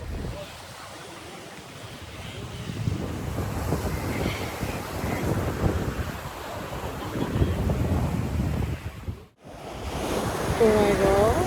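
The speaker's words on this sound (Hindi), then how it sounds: "समुंदर की लहरें" Sea waves breaking along the Marine Drive seafront in Mumbai, a steady roar of surf mixed with wind buffeting the microphone, continuous and fairly loud, briefly cutting out near the end before resuming.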